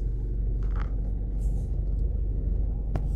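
Car rolling out past a construction site in Mandeville, Jamaica, heard as a steady low engine and road rumble with a brief hiss near the end.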